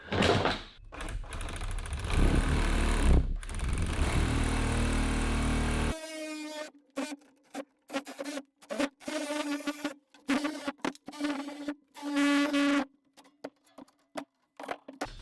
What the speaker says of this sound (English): we bought one of these DeWalt nibblers for cutting all the tin out around windows and such